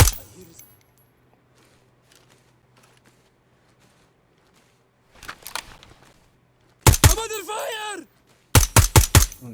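Gunfire in the tactical shooter game Ground Branch: a quiet stretch of faint clicks, then a burst of sharp shots with ringing echoes and a final rapid series of loud cracks.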